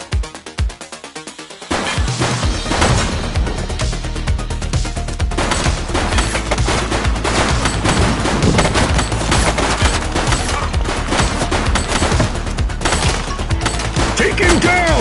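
Sustained gunfire in the police game The Precinct, dense rapid shots and bursts running loud and continuous for most of the stretch after a quieter opening.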